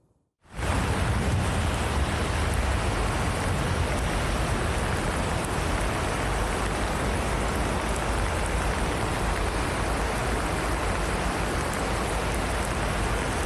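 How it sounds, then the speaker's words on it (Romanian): Heavy, steady torrential rain pours down on a street in Craiova, Romania, without a break, a dense broadband hiss that swells in abruptly and holds loud and constant throughout. "Ploaia torențială a inundat din nou străzile Craiovei."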